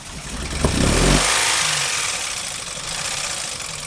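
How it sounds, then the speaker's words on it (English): A car engine cranks and fires up, then runs roughly with a loud knocking clatter that peaks early and settles into a harsh, uneven running noise with hissy wash. "People are going to say, you started the engine without pulling a dipstick."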